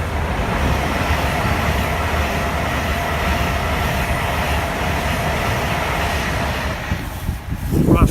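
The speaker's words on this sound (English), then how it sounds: "that's one of the Virgin trains heading north, coming up from London" A Virgin passenger train heading north from London on the main west line rushes past beside a canal, a loud, steady roar of wheels and rail noise that holds throughout and fades slightly at the end.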